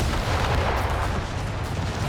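Machine gun bursts in the video game Company of Heroes 3 pile into dense, loud battle noise, with rapid gunfire mixed with booming artillery and explosions across the whole clip.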